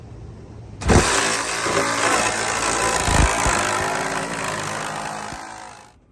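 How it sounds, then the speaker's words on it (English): A power tool buzzes loud and close for several seconds, cutting through plywood during a roof fan installation, with a hard jolt at the start and another partway through before it winds down. "I don't know if it's cutting through my plywood."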